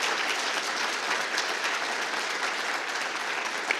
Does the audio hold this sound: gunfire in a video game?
no